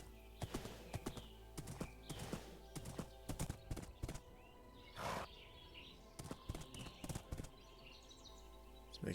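Horse hooves clip-clop in the blocky video game ArdaCraft, a Minecraft world, with several rapid uneven strings of hoofbeats, a brief neigh-like burst midway and a few faint chirps, fairly close and with no talking.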